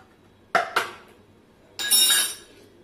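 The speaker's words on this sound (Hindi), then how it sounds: "खत्म हो गया, डब्बा खोल रही हूँ अभी।" A metal tin of ghee is pried open in a home kitchen, with two sharp metallic clicks close together followed by a longer scraping clank, close and clear in a quiet room.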